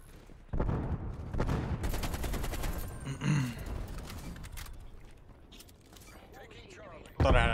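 Automatic gunfire from an AK-47 in Call of Duty: Cold War, bursts of rapid shots rattling out under a player's voice, with a sharp final burst at the end.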